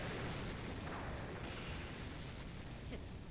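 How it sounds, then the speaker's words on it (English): A massive, sustained rumbling explosion of the planet Namek in a Dragon Ball animation, a dense roaring blast that fills the whole stretch at steady loudness. "The explosion of Namek."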